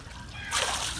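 A ball thrown to skim across water lands with a short splash and spray after a moment of quiet outdoor ambience, fairly faint and close.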